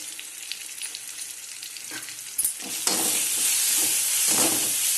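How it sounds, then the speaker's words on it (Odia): Ground masala spices including Kharagpur masala, cumin powder and chicken masala fry in a pan while being stirred, a steady close sizzle that swells louder and hissier after a brief scrape and clatter partway through, with no talking. "ଭଲ ଭାବରେ ଆମେ ମସଲାକୁ ଭାଜି ନେବା।"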